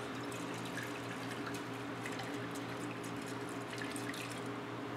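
Ethanol and fuel slosh and swirl inside a container, a soft continuous liquid churn with faint splashy gurgles, close but quiet and without talk.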